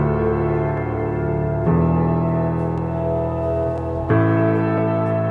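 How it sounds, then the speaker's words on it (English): Piano chords with reverb from a song remake hold in long sustained tones, changing chords twice, with no one talking. "We got this high piano chords with some reverb."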